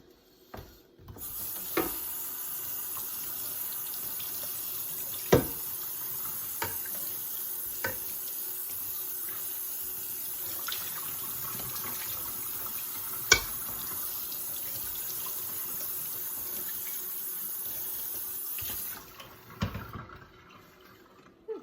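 Hot water runs from a tap into a sink during handwashing of dishes, a steady close hiss and splash broken by a few clinks, starting and stopping near the ends.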